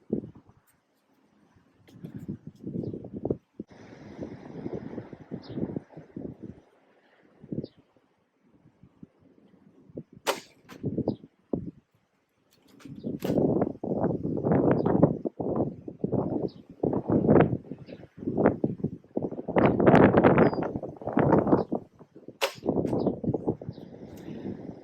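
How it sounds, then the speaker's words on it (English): Gusty outdoor wind buffeting a microphone beside a container garden, coming in irregular bursts of low rumbling noise that swell and fade, louder and denser in the second half. "if you can't tell by the wind noise, it is pretty gusty here"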